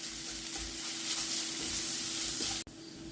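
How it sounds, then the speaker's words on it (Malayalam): Sliced onions with crushed ginger and garlic sautéing in a pan for a chicken sausage roast, a continuous close sizzle with spatula stirring strokes and a brief sharp knock near the end. "ഇനി ഇതെല്ലാം കൂടി നന്നായിട്ട് വഴറ്റിയെടുക്കാം."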